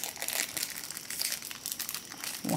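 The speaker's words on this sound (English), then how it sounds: "sorry for the crinkling, I've got to take this out" Plastic packaging crinkles steadily and close by as it is pulled open. The rustling stays dense and continuous for about two seconds and ends with a louder crackle.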